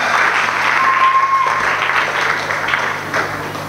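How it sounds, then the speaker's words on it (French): An audience applauds at a school student government investiture ceremony, with steady, sustained clapping from a crowd for a few seconds and a brief thin tone partway through. "On applaudit"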